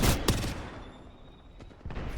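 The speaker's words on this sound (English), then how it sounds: "Frag grenades are being thrown in." Sharp explosive bursts from frag grenades in the Apex Legends battle royale, two loud blasts at the start and further thuds later, heard alone without talk.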